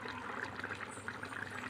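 Coconut milk from a small coconut pours steadily into a simmering village-style chicken curry, a continuous liquid trickle and splash with no talk.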